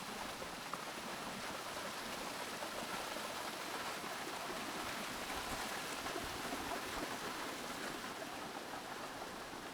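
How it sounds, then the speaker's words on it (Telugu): Water pours down stone stairs like a waterfall on the trail to Korigad fort, a steady, dense rushing and splashing that holds at an even level throughout, with no voices. "స్టేర్స్ మీద వాటర్ ఫాల్స్ లా పడుతుంది."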